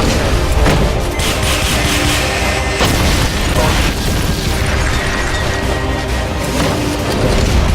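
Heavy booming blasts and explosive rumble from a rocket launcher firing in Metal Gear Solid Peace Walker, loud and dense throughout with a few sharper bursts standing out.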